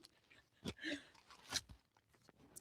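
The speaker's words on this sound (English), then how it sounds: "I can hear you chewing" Someone chewing food, likely cake, close to the mic, with a few sharp crunchy bites and wet mouth sounds at irregular moments over a quiet background.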